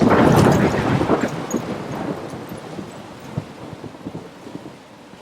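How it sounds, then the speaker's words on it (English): A thunderstorm rumbles with heavy rain and wind in the video game Life is Strange, a loud roar that slowly fades into steady rainfall with no voices. "I'm trapped in a storm?"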